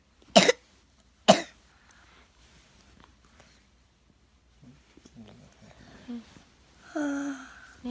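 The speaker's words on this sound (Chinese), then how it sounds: "你咳嗽给妈妈听，妈妈录影" A young child gives two sharp, close coughs in quick succession near the start, followed by quiet and then someone talking softly.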